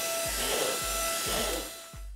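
Handheld vacuum cleaner running with a steady high whine and airy hiss, interrupted by several short thumps and bumps as it is moved along chair slits.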